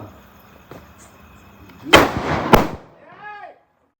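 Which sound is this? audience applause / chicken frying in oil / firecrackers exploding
firecrackers exploding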